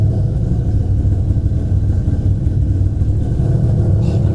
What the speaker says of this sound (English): Oh my God, I love the cam sound.